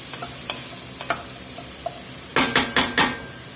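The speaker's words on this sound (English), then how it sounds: "we got to let these vegetables really cook down here" Vegetables stirred in a pan over a medium fire for a Louisiana pork steak dish, first a soft background sizzle with faint scrapes, then four louder close stirring clatters near the end.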